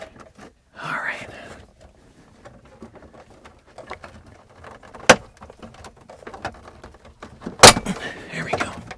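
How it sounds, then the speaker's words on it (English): Metal clips on a GM truck dashboard Driver Information Center display switch snap and crack as the switch is pried out, with two sharp loud pops among quieter scattered scraping clicks and rustling close by. "it's just the sound of these metal clips"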